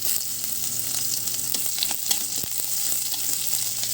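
Garlic and onions sauté in a pan with a constant close sizzle and occasional light clicks and scrapes of a stirring utensil.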